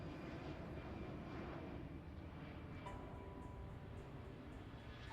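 An A380 airliner in the airport-management game Airport CEO gives a steady, broad engine roar that holds level for the whole stretch, with no voices over it.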